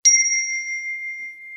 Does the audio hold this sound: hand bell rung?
yes